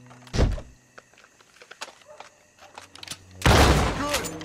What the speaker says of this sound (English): Shoot that lock, Arthur.